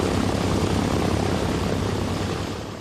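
A Consolidated Catalina flying boat drones in flight. Its piston engines and propellers give a dense, constant roar that fills the space up close, then eases slightly at the end.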